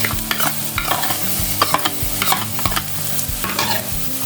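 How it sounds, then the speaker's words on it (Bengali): Pointed gourd sautéing with poppy seed paste, chilli powder and salt in a pan, a loud close sizzle under rapid, repeated scraping and clinking strokes of a spatula, no voices. "এবার এটা একটু কষাবো।"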